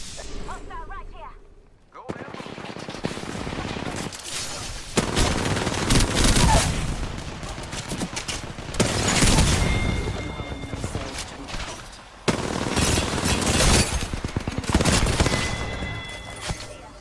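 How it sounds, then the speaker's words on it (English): Rapid gunfire in a console shooter video game, bursts of automatic shots and single cracks coming in waves with brief lulls, loud and close, with players talking over the action. "Listen up, I'm getting shot at."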